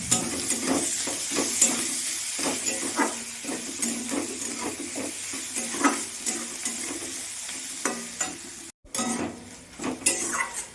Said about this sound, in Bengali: পেঁয়াজ ভাজা হয়ে গেছে প্রায়,